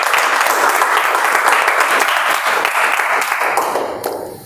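Applause at a Toastmasters club meeting, a dense, continuous spread of clapping from many hands that holds steady, then thins and fades out in the final second.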